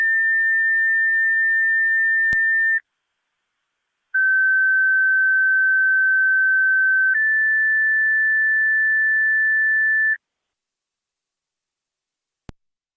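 Fire dispatch paging tones over a police and fire scanner in Niagara County: a loud, steady pure tone, then a pause, then two longer tones stepping slightly in pitch, with brief clicks around them.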